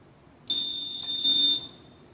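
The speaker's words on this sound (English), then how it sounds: "push program on the QSM till you hear the beep" A Lutron QSM low-voltage lighting control module gives a single steady high-pitched electronic beep lasting about a second, close and clear against a quiet background.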